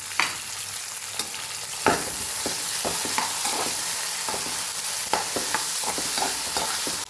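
Finely chopped garlic and curry leaves fry in a pan with a bright, continuous sizzle, punctuated by regular sharp taps and scrapes of stirring close by. No talking.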